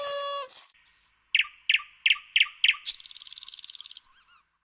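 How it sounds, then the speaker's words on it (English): Synthetic birdsong in a children's learning game: a short warble, then a run of five evenly spaced bright chirps followed by a fast trilling rattle and a final high whistle, clear and close with no talk. "Find the nightingale."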